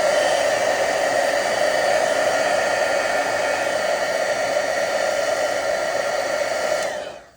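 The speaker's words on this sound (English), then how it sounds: "This is why I love using the heating tool." A handheld heat tool blows a steady, loud stream of hot air to dry watercolor paint on a stencil, holding one continuous tone for about seven seconds before cutting off abruptly.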